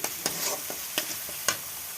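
Turmeric-and-salt marinated fish going into hot oil in a Bengali home kitchen, a steady soft sizzle broken by a few sharp spatters and stirring knocks, close and moderately quiet.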